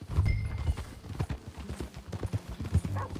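Horse hooves clip-clop at a steady riding gait in the Red Dead Redemption 2 video game, close and fairly loud, with repeated rhythmic thuds over faint ambient noise.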